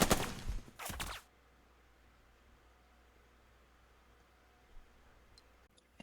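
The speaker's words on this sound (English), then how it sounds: "So I'm going to bolster that machine gun again. That's the way! And I'm going to fire again." Machine-gun fire in the tactical war game Burden of Command: a loud, crackling burst of rapid shots for about a second, then near silence with faint distant pops.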